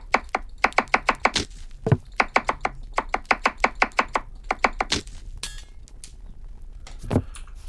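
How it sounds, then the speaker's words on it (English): Rapid knife chops on onion, carrot and celery in a cooking video game: quick bursts of sharp, evenly spaced thuds against a cutting board, loud and close, broken by brief pauses, with no speech. "Grab the onion, carrot, and celery from the shell, chop them and add them to the pan."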